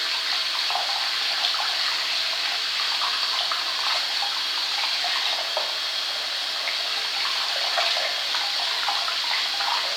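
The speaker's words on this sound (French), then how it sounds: "Désolée pour le bruit de l'eau." Tap water runs steadily into a sink, a constant close hiss and splash that never stops or changes.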